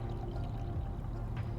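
Water is poured casually over the top of a soil profile in a soil-health demonstration, making a steady, continuous splashing pour that stays close and fairly even for the whole moment, with no voices.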